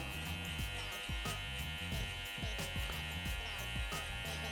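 Electric hair clipper fitted with a closed 1.5 guard, cutting hair for a fade, buzzes steadily and close throughout, with brief rhythmic dips and swells as the blade passes through the hair.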